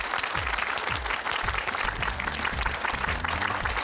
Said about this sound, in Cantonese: 咁我哋而家就俾熱烈嘅掌聲